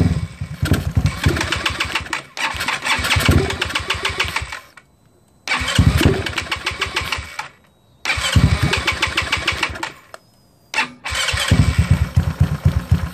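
A GY6 scooter engine cranks and catches in repeated loud bursts, broken by short silent gaps, then settles into a rough, close idle.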